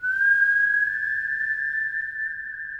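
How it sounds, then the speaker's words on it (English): A single sustained whistled tone in a music track, held clear and steady before sliding slightly higher, close and alone. "I also added some whistling up here"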